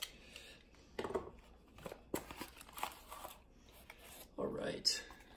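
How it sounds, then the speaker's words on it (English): A mail package being cut open gives quiet, close bursts of rustling and slicing, in several short spurts with pauses between them. "Just gotta cut it open quick."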